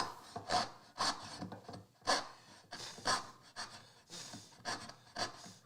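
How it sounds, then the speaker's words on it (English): Dovetail saw cutting wood in regular back-and-forth strokes, about five or six rasping pushes each a second apart, close and clear with no talk. "if you take your dovetail saw and you were to make that saw cut"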